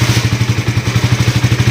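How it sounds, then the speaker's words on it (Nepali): A KTM motorcycle engine runs close by with a loud, steady, rapid thumping idle, its even pulses repeating without pause; no talking. "फेरि 3 ट्यापमा स्टार्ट भयो"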